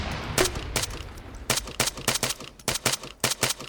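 Bursts of rifle fire in the military video game ArmA 3, a string of sharp distant shots in uneven groups, some in quick pairs, with no talk over them.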